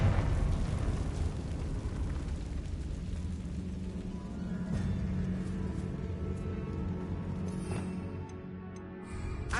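Confringo blasting spell from Hogwarts Legacy exploding in a tomb, a dense rumbling burst that lingers as a sustained roar with crackling debris, alone without talk.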